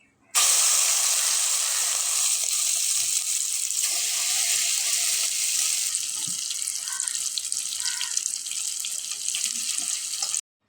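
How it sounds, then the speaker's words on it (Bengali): Cauliflower florets frying crisp in hot oil in a pan, a dense, steady hiss that starts abruptly and runs evenly throughout, fading slightly in the second half, with no talk. "একটু কড়া করে ভাজতে হয়, দেখতে ভালো লাগে একটু কড়া করে ভাজলে। সবগুলি আবার ভেজে নেব।"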